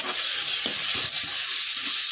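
Bitter gourd frying in a pan with cumin and coriander powder as it is stirred, giving a steady close sizzle and hiss with soft scraping stirs, no voices.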